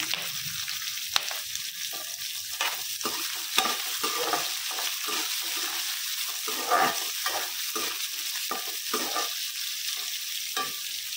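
Chopped onion, green chilies and curry leaves drop into hot oil tempering for a bitter gourd dish, a close sizzle with repeated stirring scrapes and bursts of crackling over about eleven seconds.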